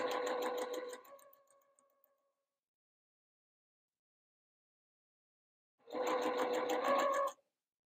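A sewing machine stitches quilt fabric in two steady bursts of rapid, even needle clatter, close and fairly loud, separated by several seconds of silence while the fabric is repositioned.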